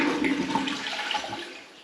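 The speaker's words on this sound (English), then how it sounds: "Get as much as we can out by flushing it" A toilet is flushed to drain its water before a valve change, giving a short nearby gush and gurgle that fades out within about two seconds.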